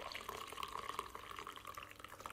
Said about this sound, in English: I've put the hot chocolate mix into a jug for easy pouring.